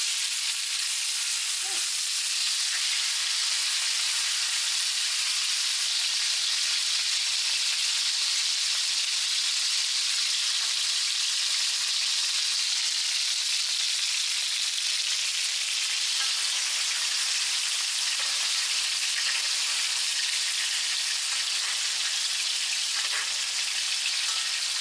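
Steaks sizzle and fry steadily in a hot cast iron pan with butter, olive oil, garlic and rosemary, a dense, constant hiss that holds for the whole stretch at close range with no talking.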